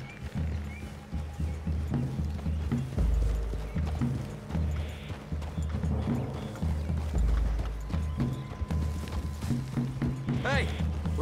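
Horse hooves clip-clop at a steady walking pace in Red Dead Redemption 2, with creaking tack and ambient sounds, while people talk over them.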